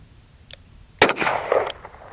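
A single sharp report from an S&W 986 revolver fired at a target, loud and close, with a brief reverberant tail trailing off after it and a faint click shortly before.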